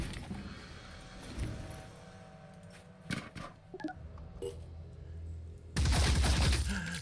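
Gunfire from a turn-based tactical battle in the video game Phoenix Point: a few sharp shots around the middle, then a loud, dense burst of firing near the end over a steady low rumble.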